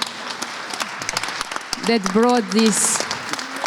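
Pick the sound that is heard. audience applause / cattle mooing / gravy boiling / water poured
audience applause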